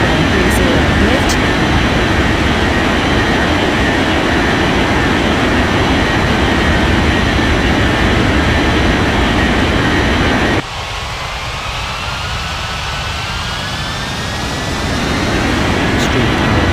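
An airliner takes off in an air traffic control video game. A steady, loud engine roar fills the scene, its tone shifts partway through, and radio voices talk over it.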